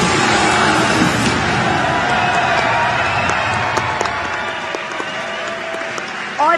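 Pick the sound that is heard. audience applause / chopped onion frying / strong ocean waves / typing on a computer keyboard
audience applause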